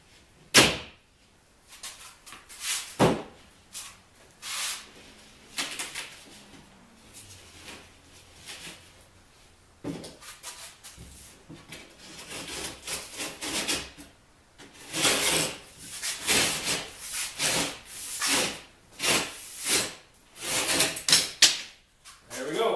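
Hand cutting of material with a knife while closing up a bathroom wall, irregular rasping strokes and knocks that start sparse and grow into bursts of repeated scraping passes near the microphone.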